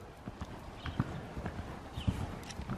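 Horse hooves clip-clopping at a steady walk, a run of irregular hollow knocks at moderate distance over quiet background.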